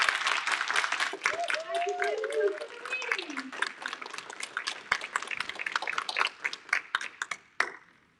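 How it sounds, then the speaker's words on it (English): Audience applause after a talk, a lively burst of claps with a whoop and a person speaking over it, thinning into scattered individual claps before fading out. "But now let's give her a really big applause"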